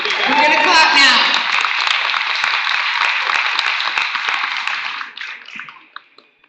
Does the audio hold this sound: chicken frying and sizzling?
no